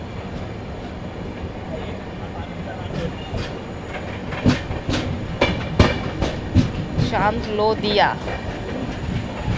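A passenger train pulls out of Chandlodia railway station and gathers speed, with steady rumble and a rising series of sharp rhythmic wheel clacks as a voice talks over it.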